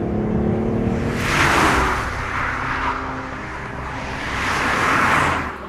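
A BMW i8 hybrid sports car accelerates hard, its engine note surging in two broad swells over a steady drone of road and wind noise, heard from inside or close by.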